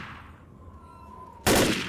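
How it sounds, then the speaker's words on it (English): A single sharp gunshot cracks out in the video game Left 4 Dead, loud and sudden after a quiet stretch with a faint steady tone, its echo tailing off briefly. "let's just take some pot shots"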